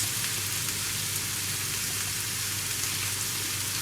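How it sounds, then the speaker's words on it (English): Constant dense hiss of shrimp sizzling in a pan, a steady crackling wash of sound with no pauses or voices. "just listen to that sizzle"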